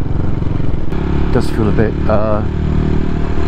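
CCM Flat Tracker Classic motorcycle engine running steadily underneath while riding, a continuous mid-pitched drone throughout with a rider talking over it.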